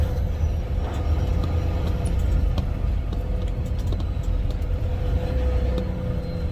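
A truck engine drones steadily while the truck drives, with a continuous low rumble and a faint steady tone running throughout, loud and unbroken with no talking.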